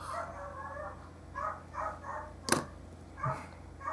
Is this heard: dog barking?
yes